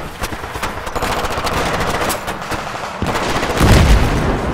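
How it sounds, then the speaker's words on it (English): Sustained automatic gunfire in Battlefield 3 during an ambush from trees, rapid loud bursts with a heavier blast near the end, and no talk. "Vehicle down, taking fire from the left!"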